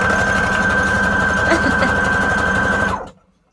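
A sewing machine stitching continuously at a steady, fast rhythm with a whirring motor hum, close and loud, stopping abruptly near the end.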